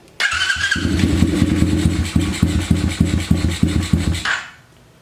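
A YCF Start F88S 88cc air-cooled four-stroke dirt bike starts with a short, raspy starter whir, then catches into a close, loud, rapid chugging idle before cutting off abruptly near the end.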